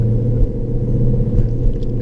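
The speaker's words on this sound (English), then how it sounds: "I'm gonna give it a little gas over here" A Lexus RC F engine revs under throttle with a loud, steady low rumble that swells slightly in a few places, close up and with no one talking.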